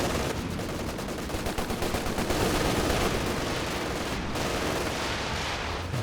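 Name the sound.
Stuka dive bomber barrage in Company of Heroes 2 video game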